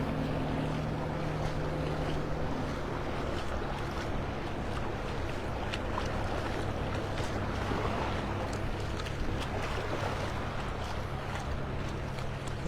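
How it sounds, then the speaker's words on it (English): A steady motorboat hum with wind and splashing water carries throughout as the boat heads out through Wiggins Pass, broad and continuous, with no talking. "Boat heading out."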